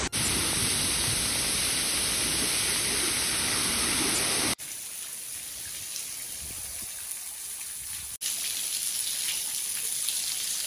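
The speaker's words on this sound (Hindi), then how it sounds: "ये वाटरफॉल ने काफी अच्छा एक रूप ले लिया है, बहुत ही अच्छा दिख रहा है देखने में" A monsoon waterfall at Harishchandragad roars as a dense, steady rush of falling water, broken by two abrupt cuts where the level shifts, with no talking.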